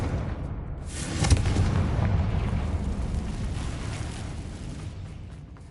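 A Confringo fire spell explodes in the video game Hogwarts Legacy with a sudden booming blast and a long rumbling roar that slowly fades, with no voices.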